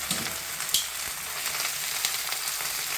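Steady, close sizzle of beef browning in a hot pan for a stew, a continuous hiss with a few faint pops and stirring ticks, no voices.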